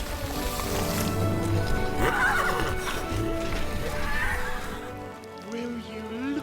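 Joey, a thoroughbred horse from the film War Horse, whinnies loudly among shouting voices and a rushing film soundtrack, with a second fainter neigh following.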